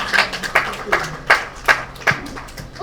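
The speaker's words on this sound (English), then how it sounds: "Let's clap for her." Rhythmic clapping in steady, evenly spaced beats, about two claps per second, from a group nearby.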